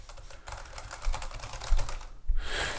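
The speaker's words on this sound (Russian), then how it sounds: "когда ты печатаешь на Keychron" Typing on a Keychron mechanical keyboard gives a quick, close run of crisp key clacks in an uneven rhythm, followed by a brief pause and then a bright final burst.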